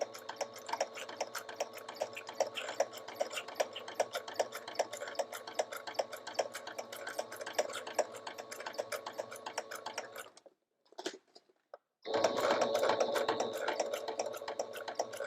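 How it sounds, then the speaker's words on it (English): A sewing machine stitches slippery fabric for a shaker pouch, a steady rapid mechanical ticking that runs close and even, breaks off briefly near the end, then resumes louder. "my sewing machine does amazingly well with it"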